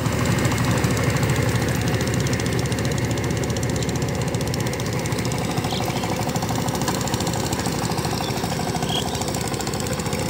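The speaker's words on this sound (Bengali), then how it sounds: "ইঞ্জিনের সাউন্ড খুবই সুন্দর।" A power tiller's engine chugs and knocks steadily while a farmer ploughs muddy land, a loud, close, unbroken mechanical rattle that never changes pace.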